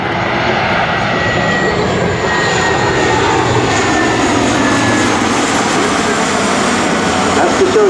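A Lockheed C-130J Hercules turboprop on approach at the Rhode Island airshow, a loud steady engine roar that stays constant and close, with faint talk under it.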